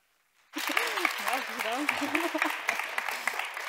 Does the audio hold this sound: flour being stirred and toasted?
no